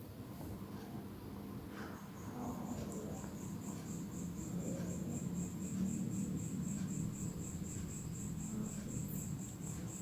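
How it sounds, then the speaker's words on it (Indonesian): Crickets chirp at night near trees in a steady high pulsing trill that continues throughout, faint and distant above a low background rumble. "Kalian dengar suara jangkrik gak?"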